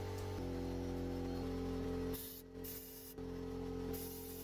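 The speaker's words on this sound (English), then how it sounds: "And then just a shot of air to disturb everything." Compressed air blasts into a tank in short, loud hissing bursts, starting and stopping several times over a steady mechanical hum.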